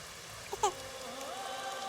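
Rain falls steadily outdoors as a soft, even hiss, with a brief faint vocal sound early on.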